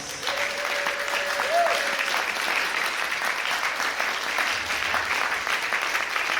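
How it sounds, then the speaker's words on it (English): Steady applause from a comedy special audience fills the whole stretch, dense and even, with a brief tonal whistle near the start rising above the clapping. "Can you all give yourselves a round of applause?"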